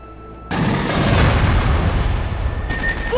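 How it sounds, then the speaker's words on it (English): Continuous loud automatic gunfire in Aliens: Colonial Marines, a dense sustained burst pouring into fuel tanks around an armored personnel carrier, starting abruptly and hammering on for nearly three seconds. "Shoot the fuel tanks around the APC."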